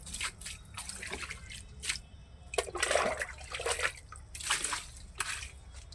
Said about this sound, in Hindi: अब इसमें डालना है पानी।